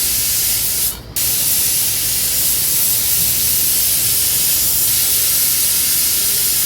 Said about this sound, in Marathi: इथे आपल्या कुकरच्या शिट्ट्या होत आहेत